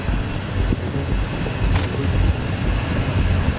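Mercedes EQE 500 electric sedan on the move, with a steady low rumble of road and tyre noise and some wind hiss from inside the cabin, no voices.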